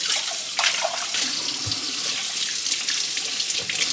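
Tap water runs steadily into a sink while a gummy mold is being washed, a continuous close splashing hiss with small clatters of handling.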